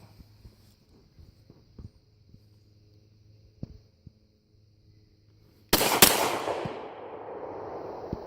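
Glock pistol shots at a shooting range: a few faint pops and clicks, then one loud sharp blast near the end whose echo and noise trail on for several seconds.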